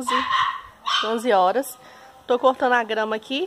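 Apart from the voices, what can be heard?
dog barking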